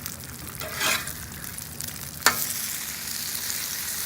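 Bacon sizzles on a BlackStone griddle outdoors in a blizzard, a steady loud crackling hiss close up, broken by one sharp metallic clink partway through, with no talking.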